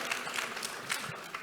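Applause from a crowd at a Canadian Club luncheon, faint and somewhat distant, comes as a brief patter of many hands clapping together rather than a single clapper.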